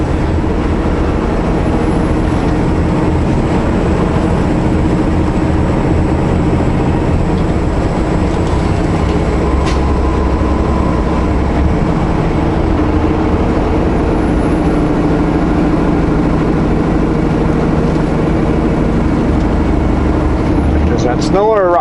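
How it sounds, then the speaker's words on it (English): A heavy truck running empty uses its engine brake on a narrow, steep mountain highway in British Columbia, producing a steady low drone and rumble throughout, with voices talking over it. "let the engine brake slow you right down"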